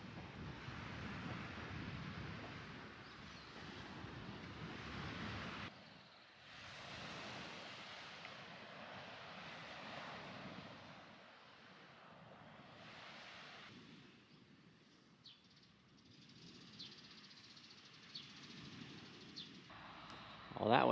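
Ocean waves washing onto a beach in Japan, a soft continuous surf wash that rises and falls, mixed with wind buffeting the microphone.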